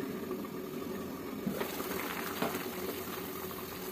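A pot of drumstick curry simmers on the stove, a continuous soft bubbling and gurgling with a few slightly louder pops, quiet and close.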